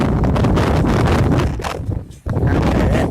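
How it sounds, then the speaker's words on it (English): Strong wind gusts during Tropical Storm Michael roar loudly and continuously against the microphone, with rustling trees, briefly easing before surging again. "Okay, that gust maybe was 40."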